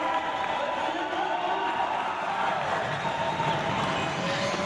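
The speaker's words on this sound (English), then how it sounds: "let's get a big applause for these two final teams going" Steady, dense crowd noise with applause at a quad rugby (wheelchair rugby) championship final at a veterans wheelchair games, loud and continuous throughout without letting up.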